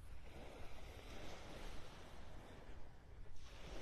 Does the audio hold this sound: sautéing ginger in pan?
no